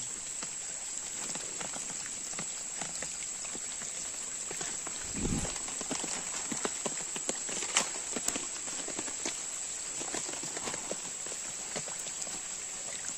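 First monsoon rain in the Konkan falls as a steady hiss, broken by irregular drips and taps on nearby surfaces and one brief low thump, with no voices.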